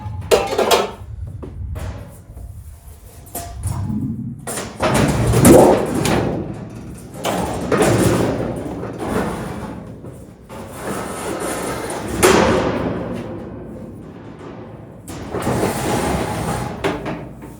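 Sheet of 16 gauge steel being handled and bent for rat rod truck cab corners, giving loud metallic bangs, wobbles and rumbling flexes in irregular bursts across the clip, close by with no talk.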